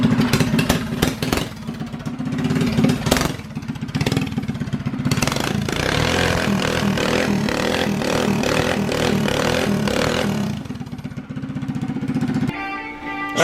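A Predator 212 non-Hemi engine on a Monster Moto mini bike fires up on the first pull and runs. It makes a loud, close, rapid chugging clatter with brief revs, and the chain rattles against it.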